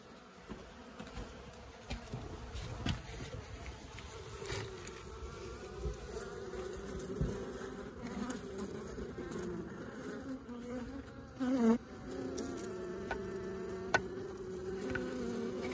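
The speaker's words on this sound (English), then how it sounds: "They're just flooding in the wall. Honeybees." Honeybees swarming inside a house wall make a steady, faint, droning buzz that fills the background with no talk, and individual insects whine past up close now and then.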